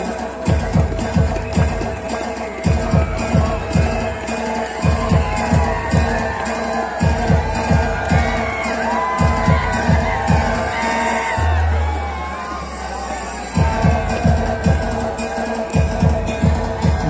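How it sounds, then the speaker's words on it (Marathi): A crowd at a state-level kabaddi match between Eklavya Sporting Club Nagpur and Samarth Amravati claps and cheers in rhythmic bursts, with shouts and whoops rising over the steady noise of the spectators. "टाळ्यांचा कडकडाट झालाच पाहिजे."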